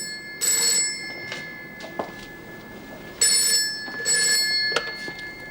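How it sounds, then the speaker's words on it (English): An indoor telephone in a staff room rings in two bursts of sharp electric bell trills separated by a quiet gap, loud and nearby. "Susie, thank heavens you rang"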